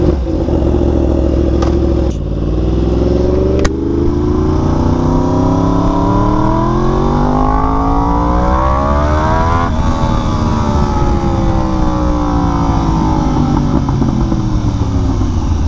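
A Yamaha R1M sport motorcycle fitted with a quick shifter and auto blipper, loud and close, revving up through the gears with rising engine pitch and abrupt shift breaks, then climbing steadily again.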